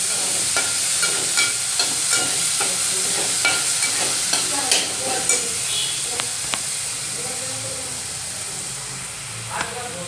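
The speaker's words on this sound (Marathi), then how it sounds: "हिरव्या मिरच्या आणि लसूण असा ठेस आहे मिरची छान परतून घ्यायची" Green chillies and garlic for thecha sauté in a pan, a loud continuous sizzle and hiss broken by frequent sharp scrapes and clicks of a spatula stirring.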